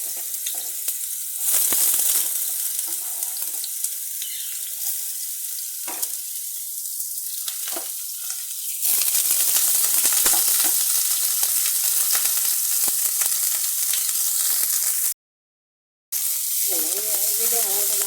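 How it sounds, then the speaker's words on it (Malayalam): Onion, curry leaves, ginger and dried red chili sauté in a pan for homestyle upma, a steady broadband sizzle with stirring scrapes, growing louder midway, briefly cutting out near the end before resuming. "ഇതിന് അങ്ങോട്ട് നന്നായിട്ട് വഴറ്റിയെടുക്കണം"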